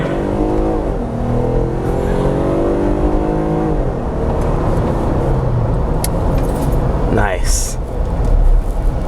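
A 2020 Jeep Wrangler fitted with a Pedal Commander throttle controller pulls hard, its engine note rising steadily in pitch through the run under continuous road and wind noise, with someone talking briefly over it.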